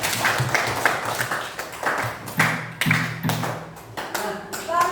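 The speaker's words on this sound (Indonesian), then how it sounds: "Beri tepuk tangan dulu kita." A school class clapping hands together in an Indonesian classroom lesson, a loose series of sharp, uneven claps and taps, fairly close and moderately loud, with a voice heard between bursts.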